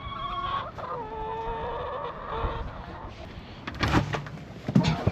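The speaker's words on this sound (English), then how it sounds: "But now I'm gonna check on the chickens." Hens clucking inside a backyard chicken coop, soft, close murmuring calls that rise into a few sharper clucks near the end, with faint rustling and no talking.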